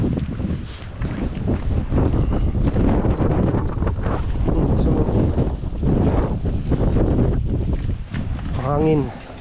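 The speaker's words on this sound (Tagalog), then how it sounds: "Hangin." Strong wind buffets the microphone in a constant roaring rumble, with voices talking faintly underneath.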